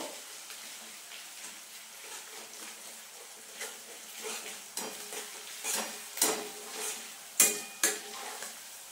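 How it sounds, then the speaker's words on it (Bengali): Onions frying in a pan give a soft, low sizzle, broken by spatula scrapes and sharp metal clinks that grow louder and more frequent toward the end. "এবার বন্ধুরা, পেঁয়াজটা আমি সুন্দর লাল লাল করে ভাজবো।"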